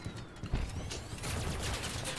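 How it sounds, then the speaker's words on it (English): Auto cannons firing in the vehicle combat game CrossOut, a dense stream of rapid, clattering shots with mechanical rattling, sustained and fairly loud throughout. "those are the auto cannons. They're not Gauss. Oh, it's like in between a machine gun and a cannon."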